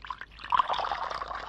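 Hot water being poured, a brief close trickle and splash of liquid that rises after a faint start and then runs steadily.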